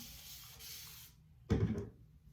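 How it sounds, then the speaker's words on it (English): Spray bottle misting water onto natural hair, one short, fairly loud hiss lasting under half a second after a quieter stretch of soft rustling. "I will take my spray bottle and just add a little more water to it"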